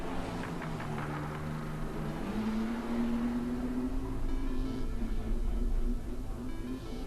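A naturally aspirated drift car engine screams at high revs during a drift championship final round on a track, a sustained wailing tone that climbs in pitch and holds steady, heard at a distance amid crowd noise.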